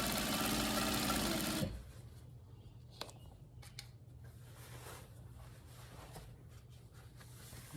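Sewing machine stitching along the edge of African print fabric for a headwrap, a steady loud whirring burst at the start, then quieter mechanical hum with soft clicks.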